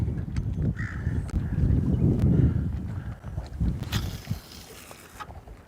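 Crows cawing outdoors on a windy winter fishing outing, several harsh calls scattered through steady wind and water noise, moderately close.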